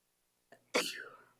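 A single sneeze during a county board of commissioners meeting, a short soft intake followed by one sharp burst that fades out, close by with no other talking.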